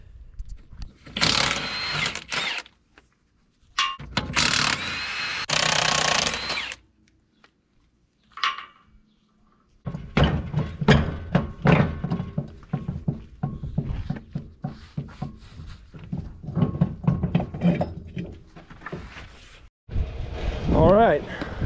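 A broken disker hub is taken apart with hand and power tools: metallic clanks, scraping and short buzzing bursts come in uneven clusters separated by quiet gaps.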